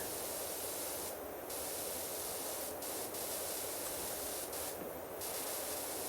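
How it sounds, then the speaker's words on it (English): A pressure washer sprays water into an oil cooler as a steady, fairly faint hiss, with a few short, brighter bursts of spray rising above it. "Go ahead and spray a whole bunch of water into this oil cooler."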